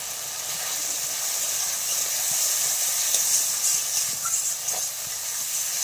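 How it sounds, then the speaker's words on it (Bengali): Turmeric and spices fry in a pan for a light fish curry with potato and pointed gourd, giving a steady, close sizzling hiss that swells slightly midway with faint stirring scrapes. "আর একটু মশলাটা কষিয়ে নেব"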